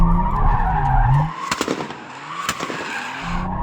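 A Toyota Supra TRD, the 80-series model, slides sideways with a loud tire screech that cuts off suddenly, followed by a few sharp pops from the car.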